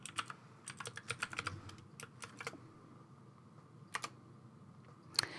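Password typed on a computer keyboard at a Linux terminal: irregular bursts of light key clicks, clustered early, then scattered taps and a final louder keystroke, fairly close with a quiet room hum underneath.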